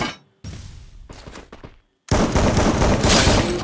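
In a multiplayer shooter video game, sharp bursts of gunfire are followed by a heavy, loud, sustained blast of explosion and rapid shots; no talking.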